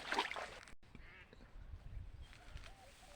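Ducks quack among mangrove-like vegetation while out mud crab hunting, a few short, faint quacks near the start and then softer calls in the background.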